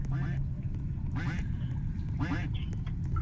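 A duck in a Roblox game quacks three times at roughly even intervals, each a short nasal burst over steady game background noise.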